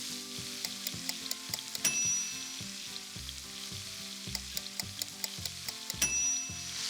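Steaks sizzle steadily in a skillet, a close, continuous crackling fry with occasional brighter pops and light clinks of utensils against the pan, with no one talking.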